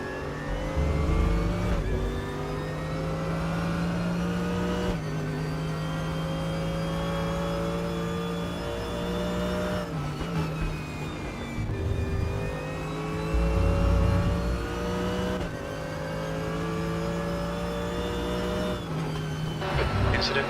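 Steady engine drone of an LMP3 prototype race car in the RaceRoom sim at Imola, holding a sustained harmonic whine with shifts in pitch around upshifts, loud and continuous throughout.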